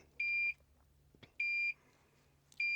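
A Toptes PT-830S combustible gas leak detector sounds its alarm after gas is released near it: three loud, close, high-pitched electronic beeps at an even pace, each about a third of a second long, with no talk.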